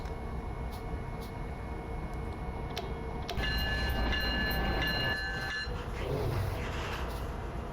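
A Norfolk Southern coal train in Train Sim Classic rumbles with a steady low drone and faint ticking, then a sustained multi-tone horn chord sounds loud for a couple of seconds over the continuous rolling noise.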